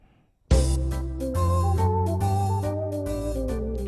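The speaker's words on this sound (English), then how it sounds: "On organ rhythm preset, it sounds like this." Smooth foxtrot accompaniment on an Elite EX/EY organ with the organ rhythm preset, full sustained chords and bass with light percussion, entering abruptly after a moment of silence and continuing steadily and loudly.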